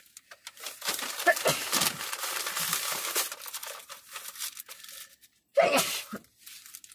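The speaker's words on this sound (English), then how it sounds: "Ooh, I gotta sneeze." A close sneeze bursts out amid crinkling and rustling, followed by a second sharp sneeze-like burst after a brief pause.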